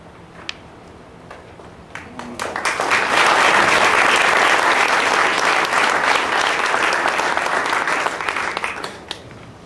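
A meeting audience applauds students being recognised at a May 2012 OCBE board meeting, the clapping swelling from scattered hands to a loud, sustained, dense roar before tapering off near the end.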